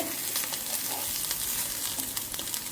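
Sweet potato slices sizzle in ghee in a hot pan, a steady close crackling hiss with small pops throughout and no talking.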